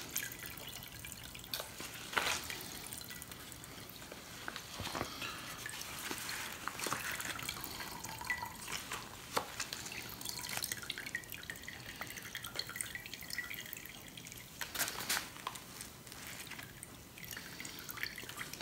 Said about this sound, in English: you're squeezing 4 ounces of plant material, dried plant material. Now it's all wet.